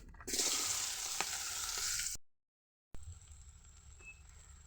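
Onions frying in oil in a pan reused from fish, a bright, loud hissing sizzle for about two seconds, then a brief silence, then a quieter, steadier frying hiss.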